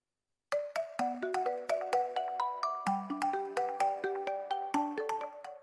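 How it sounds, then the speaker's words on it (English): Marimba version of the Honor phone ringtone: a lively sequence of crisp, woody mallet notes in an even, bouncing rhythm, clear and close, with no talking, following a short silence. "And for the marimba,"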